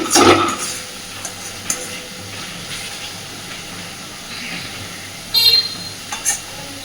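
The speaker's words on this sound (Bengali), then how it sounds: "মশলা খুব সুন্দরভাবে কষে গেছে মশলা থেকে তেল বেরোতে শুরু করেছে" Spice paste for a pangas fish curry fries in oil until the oil separates, with a soft steady sizzle, a sharp scrape of stirring at the start and a couple of brief metallic clinks later, no voices.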